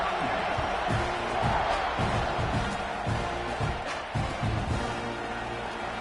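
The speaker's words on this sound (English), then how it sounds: "this crowd is buzzing after that last score" A stadium crowd buzzes at a college football game in the video game NCAA 26, a dense, steady roar with faint rhythmic thumps underneath and no clear talk.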